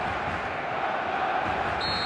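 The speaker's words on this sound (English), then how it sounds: "The stadium is full of noise and energy." A full stadium crowd in an eFootball video game sends up a steady, dense roar of noise that holds level for about two seconds.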